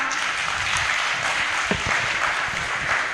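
Audience applause at a Hindi literary panel discussion, dense sustained clapping from a crowd that fills the whole stretch evenly, no voices heard.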